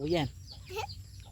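A chicken clucks a few short times close by, with brief voices mixed in around the calls.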